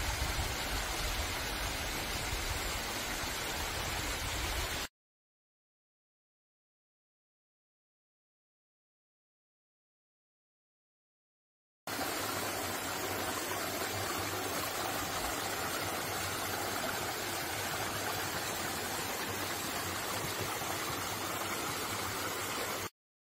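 A mountain stream with a distant waterfall in a valley gorge rushes as a steady, dense broadband wash, loud and continuous, broken by a stretch of total silence before the flow resumes.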